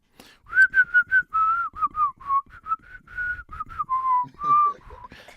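A person whistles a lively melody up close, with short bright notes in quick succession and a few longer held tones.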